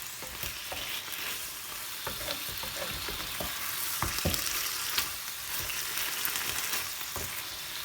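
Chicken stir-frying with oyster sauce in a pan, a steady bright sizzle broken by repeated scraping and stirring clatters of the utensil against the pan, close and continuous.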